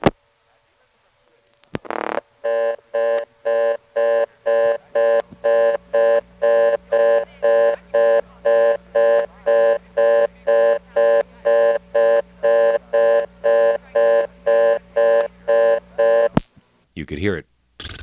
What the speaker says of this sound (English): reorder is what you get on the 11th terminal of any of the levels of the selectors in this office